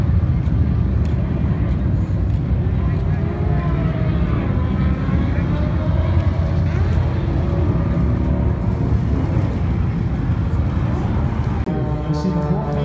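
An aerobatic airplane performs at the San Bernardino air show, its loud propeller engine droning continuously with rising and falling pitch as it maneuvers, while a voice seems to talk over it.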